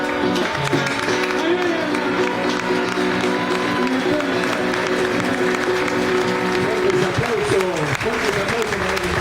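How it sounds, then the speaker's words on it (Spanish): Crowd applause for a singer at a protest encampment in Plaza de Mayo, Buenos Aires, dense sustained clapping with voices and some cheering underneath. "Fuertes aplausos para el compañero"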